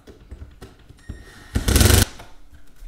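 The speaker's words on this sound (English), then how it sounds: "You're basically just drilling those in to the stud to emulate the toggle" A power drill drives screws into a wooden wall stud through sheetrock. After a few quiet clicks, a loud half-second burst of driving whirs up and stops abruptly.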